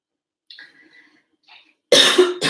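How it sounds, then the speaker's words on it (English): A few faint throat sounds give way to a coughing fit, a burst of loud, harsh coughs, two heavy hacks close together at the end. "I'm going to go into a coughing fit"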